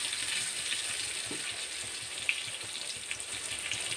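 Small brinjals sizzle steadily in hot oil, a close, even frying hiss with a few faint pops and no voice over it.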